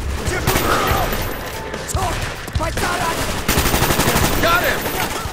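Gunfire in the video game Call of Duty: Black Ops, bursts of rapid automatic shots and sharp single cracks throughout, loud and close, with faint voices underneath.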